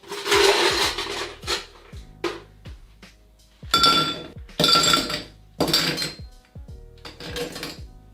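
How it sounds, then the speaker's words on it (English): Ice cubes dropping and clinking into a Hurricane cocktail glass in several close, bright bursts of rattling knocks, with short pauses between scoops and no talking. "and fill it with ice."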